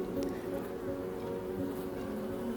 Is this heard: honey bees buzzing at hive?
yes